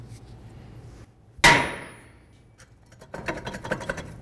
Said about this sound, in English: give it a loving bonk with your hammer.